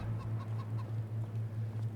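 Chickens cluck in the farming game Farming Simulator 25, a steady run of short, evenly repeated clucks that loops without pause and no talk over it.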